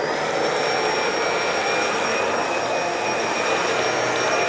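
A Bissell Pet Hair Eraser Turbo Lift-Off vacuum cleaner runs close by with a loud, steady rushing roar and a faint high whine throughout, with no talk.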